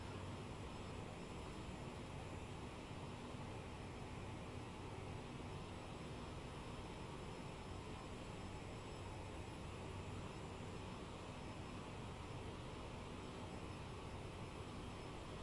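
Aerosoft CRJ-700 jet engine in Microsoft Flight Simulator 2020, a steady broadband roar with a faint whine, constant and unbroken throughout with no talking.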